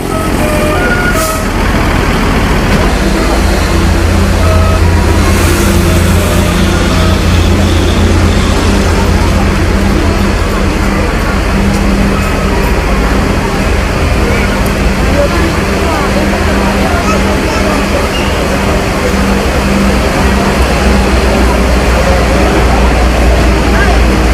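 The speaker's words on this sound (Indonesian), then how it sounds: "bus MPM unit kedua yang singgah di loket bus di Pauh Padang" An MPM bus, a non-economy coach, idles loudly with a deep rumbling engine at a roadside bus ticket office in Pauh, Padang, with faint voices and traffic around it.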